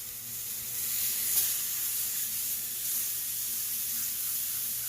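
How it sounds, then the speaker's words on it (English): Steak pieces standing on edge sear on a Blackstone flat top griddle, giving a steady, even sizzle with soft hissing throughout, fairly quiet and with no talking. "we're going to brown each side, which just simply means standing them up and letting each bit of steak get that heat"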